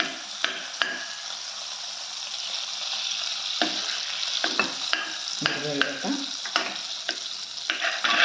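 About a tablespoon of butter with a little oil sizzles and fries in a pan for cream of mushroom soup, a constant close hiss broken by scraping stirring sounds.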